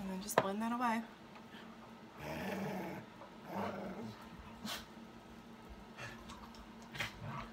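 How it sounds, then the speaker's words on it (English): Two beagles growl and yip in short bursts of rough play-fighting in the background while a person talks over them. "You can hear my dogs fighting in the background."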